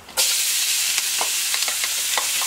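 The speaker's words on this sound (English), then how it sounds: "Hear that sizzle, kitchen smelling nice." Onions hit a hot pan for a braised short rib sauce and burst into a loud, steady sizzle, with occasional sharper crackles and pops over the continuous hiss.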